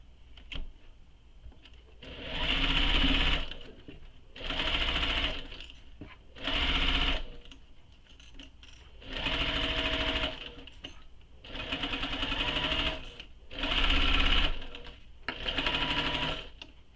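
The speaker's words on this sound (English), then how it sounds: "So we'll sew these sides with the seam allowance given in the pattern." Sewing machine stitching the side seams of a convertible tote bag, running in seven steady bursts of a few seconds each with short pauses between, loud and close with no talking.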